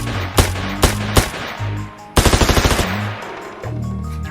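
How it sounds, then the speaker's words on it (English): A homemade gun fires unsuppressed with barely subsonic rounds: three sharp, loud single shots, then a fast rapid burst of about eight reports, with mechanical rattling between them. "Here's a little quick test fire."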